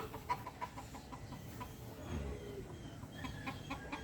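A Sweater Boston gamefowl rooster clucks softly in short, scattered calls over a faint rustling outdoor background at a breeder's farm in the mountains, with no one speaking.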